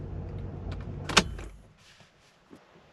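A 1985 Porsche 928 S Euro with a crank position sensor fault, idling and then switched off: a steady close engine rumble ends with a sharp click, and the sound fades to near silence with a faint tick afterward.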